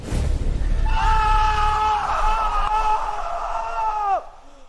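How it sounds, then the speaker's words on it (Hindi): A sustained, piercing scream rings out loudly for about three seconds before cutting off abruptly, set over a low rumbling horror backdrop. "वो मुड़ा और उसके मुंह से चीख निकल गई।"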